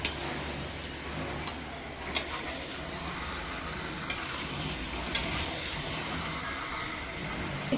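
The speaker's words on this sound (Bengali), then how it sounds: "এবার মাংস কষাতে থাকবো, আর এর মধ্যে দিয়ে দিলাম আলুটুকুও দিয়ে দিলাম" Chicken pieces and potatoes sautéing in a pan, a steady faint sizzle with occasional sharp scrapes and clinks of a stirring spoon, no talking.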